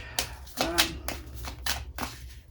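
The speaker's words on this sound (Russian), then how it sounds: "Пока перемешивала карты" Lenormand fortune-telling cards being shuffled by hand, a run of soft, close papery riffles and slaps in quick irregular bursts with no talking.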